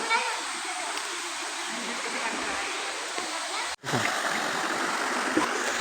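Upper Ghaghri falls at Netarhat, a waterfall and stream running with a fairly low flow, giving a steady, close rushing and splashing wash that continues without a break apart from one brief dropout near the end.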